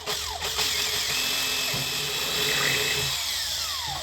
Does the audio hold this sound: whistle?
no